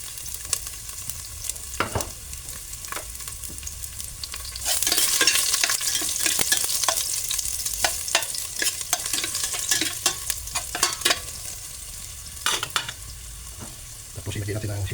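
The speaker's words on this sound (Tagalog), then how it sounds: "Igisa natin ang bawang" Garlic sautéing in a pan for laing, a steady sizzle that swells louder midway, broken by repeated scraping clicks of a spoon stirring it.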